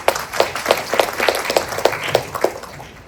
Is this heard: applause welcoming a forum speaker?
yes